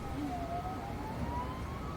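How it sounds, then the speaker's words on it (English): Faint, distant sirens wail in a busy city street, a rising and falling tone over steady traffic noise with no talk. "sirens blaring"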